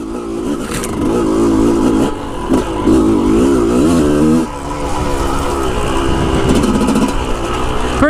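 A carbureted dirt bike in a forest revs hard and close, its loud engine rising and falling in sharp surges, then settling into a steady high drone.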